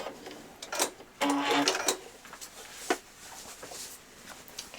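Sewing machine reverse stitching to finish a seam on a child's dress, a few short, separate bursts of stitching and clicks spread across the clip, close and moderately loud.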